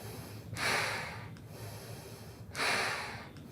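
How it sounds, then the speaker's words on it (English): Two forceful breaths through a mask or mouthpiece during a VO2 max test, each a broad rushing exhale lasting over a second, spaced about two seconds apart, close and loud with brief quiet inhales between. "Let's go smaller breaths"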